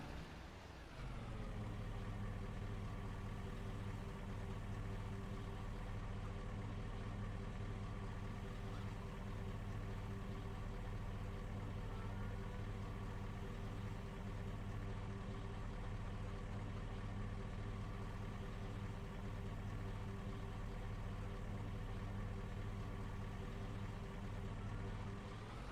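An electric van in the Chicken Farm Survival video game idles with a synthetic exhaust sound, a steady, even engine hum that runs unbroken at a constant level throughout.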